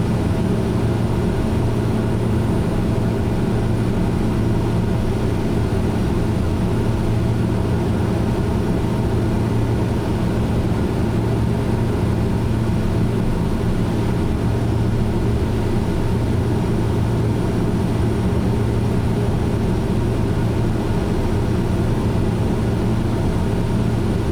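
Steady, loud drone of an SWS PC-12 turboprop engine climbing with throttle pulled back in Microsoft Flight Simulator 2024, a constant unbroken hum and roar with no talking.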